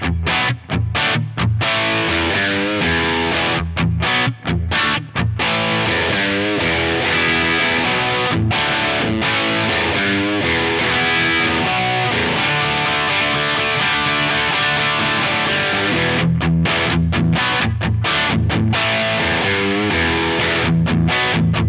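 Electric guitar through the Two Notes Genome plugin's Wizard lead capture, a rock-and-roll crunch tone, played as loud, continuous distorted riffs with short stops and chord stabs, with no voice over it.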